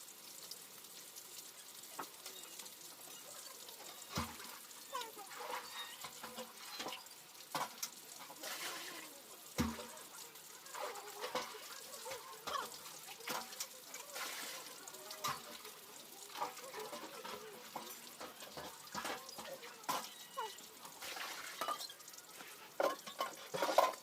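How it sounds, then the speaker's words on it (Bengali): Water is drawn by hand at home for washing clothes, giving faint, irregular splashes, trickles and small knocks scattered throughout. "জল তুলে ধুয়ে নেবো"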